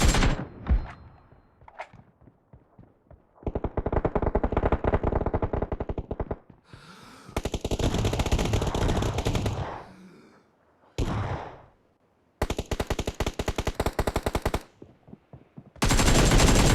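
Gunfire in the BGMI battle royale mobile game: repeated automatic bursts of rapid shots, loud and close, separated by short silent gaps, with no voices.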